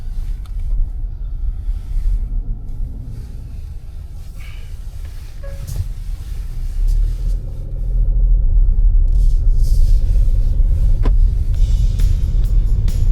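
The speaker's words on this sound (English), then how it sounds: "David's last ride in the Kona." Hyundai Kona driving on the road, a steady low road rumble and engine drone from inside the cabin that grows louder and denser partway through.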